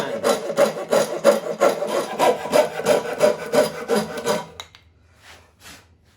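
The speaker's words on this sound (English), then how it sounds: "I know I can sand these bits off to make it more rounded." Sandpaper rubs back and forth over a carved comet shape, about a dozen steady rasping strokes in a quick even rhythm, close and fairly loud, then stopping with near quiet for the last couple of seconds.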